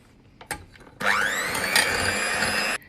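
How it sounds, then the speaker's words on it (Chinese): An electric hand mixer whips egg whites with sugar for a cake, starting after a couple of light knocks with a rising whine that settles into a steady high-pitched whir, then cuts off. "蛋清部分分次加入白砂糖打发"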